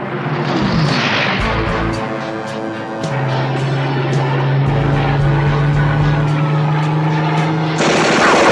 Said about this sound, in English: Good shooting, Longhorn